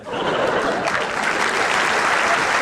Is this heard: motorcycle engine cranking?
no